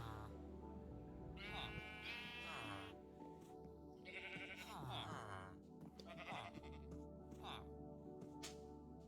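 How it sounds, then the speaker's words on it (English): Several video game sheep bleat repeatedly, wavering calls rising over a steady background hum, with a voice talking between the bleats. "one of these sheep is a pink sheep, and I need it to eat so I can dye it blue"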